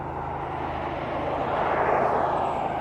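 Aircraft engine noise at East Midlands Airport, a steady broadband roar holding level and swelling slightly toward the end, with no voices.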